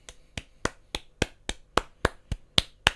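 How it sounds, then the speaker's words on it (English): Sharp, evenly paced claps, about eleven distinct close hits over three seconds, each crisp and dry with nothing behind them. "Let's clap, clap, clap."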